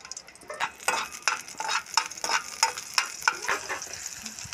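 Chopped green chili pieces hitting hot oil in a pan while cooking cauliflower 65 at home, giving a steady crackling sizzle with sharp, repeated popping bursts, close and fairly quiet, with no voices.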